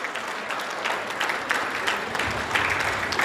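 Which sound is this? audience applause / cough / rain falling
audience applause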